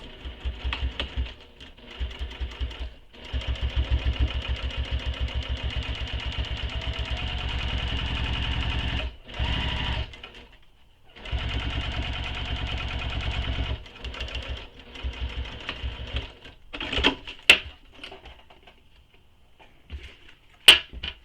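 A sewing machine stitches a vinyl-backed backpack back panel in long, steady mechanical runs, fairly close and loud, broken by short pauses and ending with a few sharp handling clicks.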